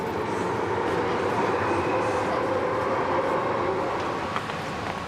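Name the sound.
Hong Kong metro train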